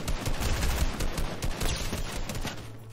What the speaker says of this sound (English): there's some shooting happening